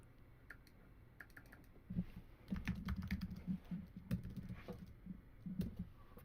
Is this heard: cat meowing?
no